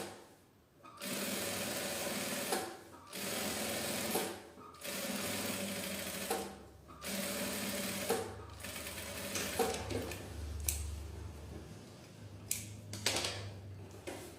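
A sewing machine stitching a large tote bag, running in steady whirring bursts of a second or two separated by short pauses, then lighter clicks and adjustments, close and alone.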